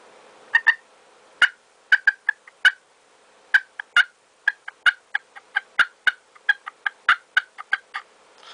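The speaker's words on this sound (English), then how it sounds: "And then some clucking." Turkey hand call making a run of short, sharp clucks, spaced irregularly, some in quick doubles, close and clear with nothing else behind them.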